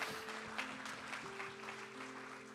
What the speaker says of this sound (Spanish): Vamos, denle un aplauso.